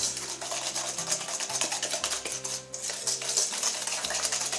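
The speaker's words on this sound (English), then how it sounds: "if you keep whisking, it starts to lighten up" A whisk beating lemon curd in a bowl, producing a steady, fast scraping and clinking rhythm close by, continuous throughout with no talking.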